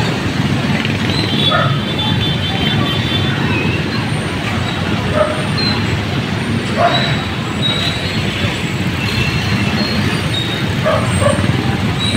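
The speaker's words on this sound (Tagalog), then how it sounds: "talagang traffic na ngayon kasi sa nangyayaring pag-ulan" Heavy traffic on a highway in rain, with trucks and buses rumbling and hissing steadily and loudly, brakes squealing now and then over a constant roar.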